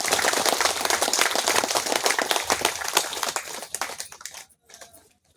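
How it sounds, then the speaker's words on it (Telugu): An audience bursts into dense, crackling applause at a spiritual teaching talk, steady and loud for about four seconds before thinning into a few scattered claps and fading out. "ఒకసారి గట్టిగా పత్రిక క్లాప్స్ కొడదాం"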